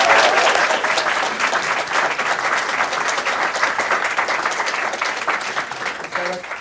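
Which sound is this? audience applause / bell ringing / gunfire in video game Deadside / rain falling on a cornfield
audience applause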